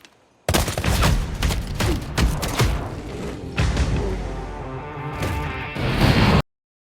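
Film gunfire as henchmen execute a man: a dense, loud volley of rapid shots and booming impacts bursts in abruptly and rolls on for several seconds before cutting off sharply.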